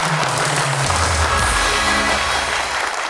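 An audience on a game show applauds loudly for a contestant's wife, a steady wash of clapping that lasts a few seconds with a low hum underneath.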